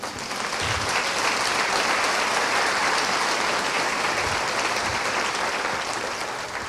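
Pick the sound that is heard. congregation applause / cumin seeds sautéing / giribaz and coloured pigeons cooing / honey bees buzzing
congregation applause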